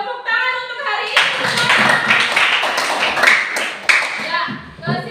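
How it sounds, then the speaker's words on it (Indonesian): A classroom applauds at the end of a lesson. A teacher's voice is heard briefly, then a burst of close, lively hand clapping from the class runs continuously to the end. "tepuk tangan untuk hari ini"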